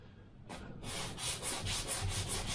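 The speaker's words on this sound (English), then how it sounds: "use a sanding block and just sand" A sanding block rubs across a balsa-type wood edge on a model aircraft fuselage, close, rhythmic back-and-forth scratching strokes that repeat steadily without speech.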